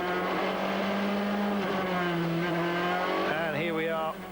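GP2 race cars from the 2005 season idle and rumble behind the pace car on track, a steady loud engine drone with a rising rev toward the end.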